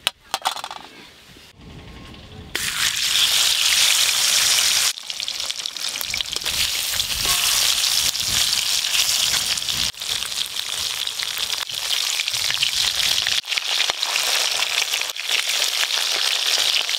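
Hilsa fish fries in oil with a loud, continuous sizzle and crackle close by. A few soft clicks come first, then the sizzle runs on with brief dips.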